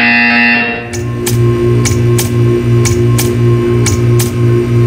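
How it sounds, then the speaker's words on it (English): Game buzzer in Portal 2 sounds as a series of sharp, evenly spaced clicking pulses over a steady low electronic hum, following a brief higher tone at the start. "You will hear a buzzer. When you hear the buzzer, stare at the art."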